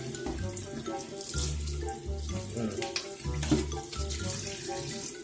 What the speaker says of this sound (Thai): ในการ ทำความสะอาดเจ้าเมนบอร์ดตัวนี้นะครับ ล้างไปเลยเดี๋ยว